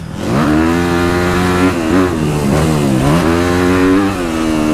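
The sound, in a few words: dirt bike engine revving while shifting gears on motocross track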